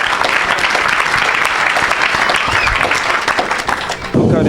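A church congregation claps and cheers loudly in acclamation of Jesus Christ, steady dense applause filling the hall for several seconds, with a sharper burst of clapping and noise at the end.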